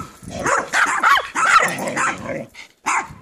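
Several puppies barking and yipping up close, a loud cluster of overlapping high yaps and whiny yelps in quick bursts, a short pause, then one more yip.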